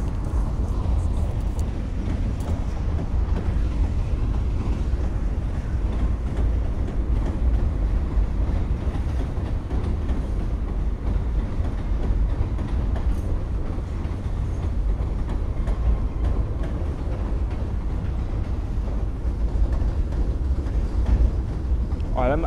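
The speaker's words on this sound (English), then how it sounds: "Train kind of came out of nowhere" A train rumbles past close by, a steady low roar with faint rattling that lasts the whole stretch, with a voice talking now and then.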